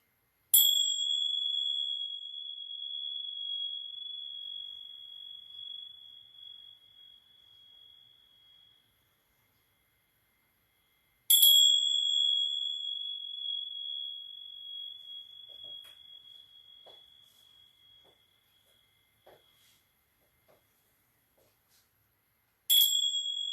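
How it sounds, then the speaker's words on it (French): A meditation gong rings out three times. The first two strikes each leave a long, pure, ringing tone that slowly fades over about ten seconds, and the third strike comes at the very end. The room is otherwise quiet. "On va faire un petit coup de gong avant de finir."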